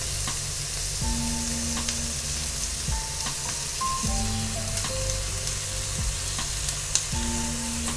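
Meat and cabbage for a Hiroshima-style okonomiyaki sizzling on a hot griddle, a continuous close fry hiss with scraping and a few soft taps from a spatula, no voices.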